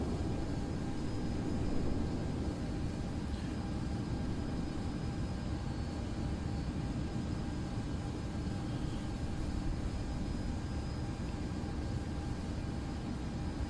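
A TWA Boeing 767-200 taxiing in Microsoft Flight Simulator 2020, its engines giving a steady, even, broadband roar that holds throughout with no talking.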